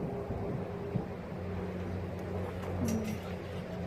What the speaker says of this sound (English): wow, that wind is strong